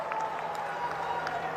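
Steady crowd clapping at a political rally in Haldwani, Uttarakhand, a dense continuous wash of applause with faint cheering, moderately distant and unbroken throughout.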